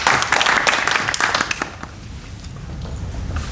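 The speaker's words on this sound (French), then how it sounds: "On peut l'applaudir, je crois." Applause at a municipal council meeting in Essert, a short burst of clapping from a small audience that fades after a second or so into quieter room noise.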